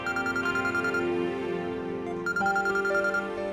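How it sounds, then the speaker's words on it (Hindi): A mobile phone rings with an electronic melodic ringtone for an incoming call, loud and continuous, the tune shifting partway through, with no talk. "व्यू घर से फोन है बड़ी माँ का।"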